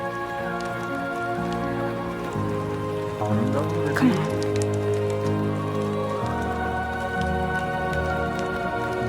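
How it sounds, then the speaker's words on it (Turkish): Rain pours steadily across a rural scene in the video game Death Stranding 2, an even hiss spread over the whole stretch, with background music and a brief spoken voice over it. "Yağmur yağması."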